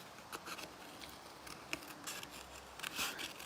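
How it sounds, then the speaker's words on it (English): Small decoupage scissors snip out paper shapes for a mixed media card, quiet close-up cuts arriving in short irregular bursts with no talking. "Use my little decoupage scissors to cut these out."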